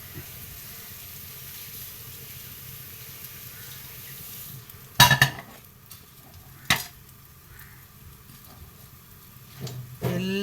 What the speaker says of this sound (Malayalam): എണ്ണ ഒഴിച്ചിട്ടാണ് ഇത് വറക്കുന്നത്